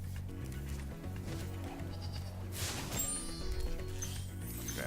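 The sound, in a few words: sheep bleating in the video game Spyro Reignited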